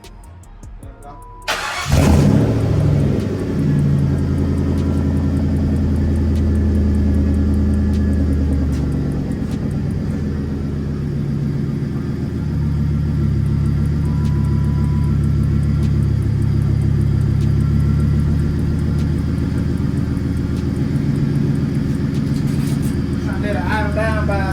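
A car engine fresh from an overhaul starts up, then settles into a loud, steady idle rumble that runs close and continuous, with people talking over it.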